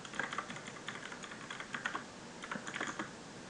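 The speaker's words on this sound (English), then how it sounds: "I should be typing this out." Quick bursts of clicking keystrokes on a computer keyboard, irregular clusters of taps with short pauses between them, fairly close and moderately quiet, with no talking.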